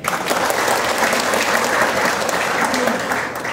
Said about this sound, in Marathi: तर सर्वप्रथम जोरदार टाळ्या व्हायला पाहिजे.